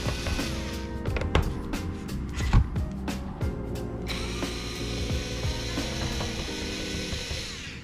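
Torx T20 screws being backed out of a Craftsman 18 gauge nailer, with repeated close ratcheting clicks from a hand tool and small metallic knocks, steady and continuous.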